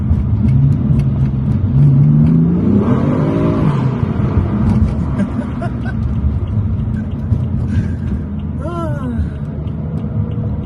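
A BMW M4 drives through a tunnel, its engine rumbling and rising in pitch as it accelerates, with the enclosed space adding a steady roar; a brief whine sweeps up near the end.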